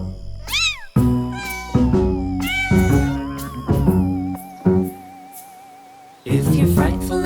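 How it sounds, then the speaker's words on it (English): Cartoon cat sound effects for a narrated children's storybook: a series of loud, close meows and drawn-out screeching yowls, several in a row with short pauses, heard alone without talk. "Twitch your tail and screech meow."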